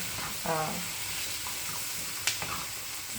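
Bok choy and onions sizzling in a skillet in a stir-fry style dish, a steady close hiss broken by a brief stirring scrape and a few clinks of a utensil against the pan.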